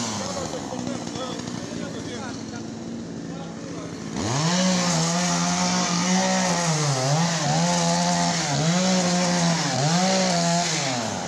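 Chainsaw revving and cutting through wood at a market in Sibiu, starting suddenly after a few seconds of crowd voices and then running loud and close with repeated throttle swells.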